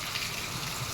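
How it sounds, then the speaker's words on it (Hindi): Steady hiss of rain falling during a rainy spell in Deo, Aurangabad, Bihar, a broad continuous wash with no distinct drops, fairly quiet and even throughout. "लेकिन फिलहाल अभी बारिश हो रही है"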